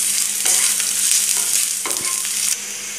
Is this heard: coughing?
no